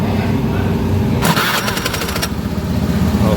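An electric starter cranks a Honda Beat FI scooter engine, a short, loud, rapid whirring and clattering burst lasting about a second over a constant idle-like background drone, heard close up.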